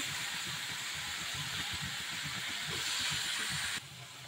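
Chopped pointed gourd hits a hot pan with shrimp frying, giving a steady, loud hissing sizzle that holds throughout and drops slightly in level near the end.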